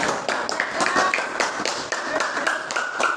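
A group claps in a brief burst of quick, uneven hand claps, fairly close and loud, lasting a few seconds.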